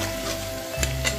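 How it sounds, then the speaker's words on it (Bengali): Fish masala sautés in a pan with a steady, close sizzle. A spoon stirs it with a couple of brief scraping strokes, and no one speaks. "এটাও 1 মিনিটের মতো ভালোভাবে কষিয়ে নিচ্ছি আমি।"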